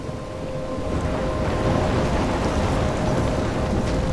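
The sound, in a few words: storm with rain and thunder in Life Is Strange video game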